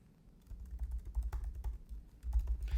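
Rapid typing of commands on a computer keyboard while setting up an AI assistant on a DGX Spark, with close, irregular clusters of key clicks and no talking.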